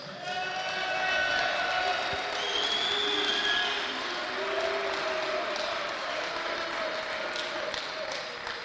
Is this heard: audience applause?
yes